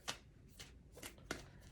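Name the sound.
shuffling black tarot cards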